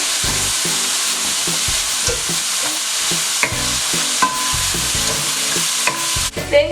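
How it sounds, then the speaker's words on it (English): A whole bag of vegetables is mixed and stir-fried in a pan for vegetable rice, giving a loud, steady sizzle close by, with repeated rhythmic scrapes and knocks of a spoon against the pan. No one speaks. "Then you want to add your veggies. Use the whole bag and then mix that in."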